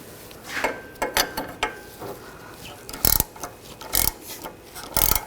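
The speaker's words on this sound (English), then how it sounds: "so we're going to use a 21mm wrench and hold that" Metal clatter and ratcheting clicks from a 21mm wrench and socket working rear brake caliper bolts on a 2015-2020 Cadillac Escalade, a run of short close knocks and scrapes with a few louder bursts, no talking.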